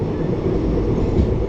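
A passenger train pulling out of Sevoke station on the Haldibari–Bamanhat route in the hills of North Bengal, giving a steady, loud low rumble and rolling wagon noise throughout, with no voices.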